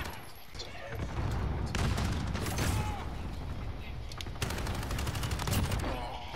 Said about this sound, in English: This guy has a shotgun. Oh, that 725 motherfucker.